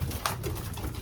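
Racing pigeons coo softly in a loft, a low murmuring burble from several birds close by, steady throughout, with no talking.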